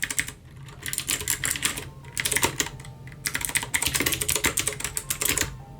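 Fast typing on a Royal Kludge R75 75% mechanical keyboard with blue switches, set on a table, gives dense bursts of crisp clicky keystrokes close up, with brief pauses between runs.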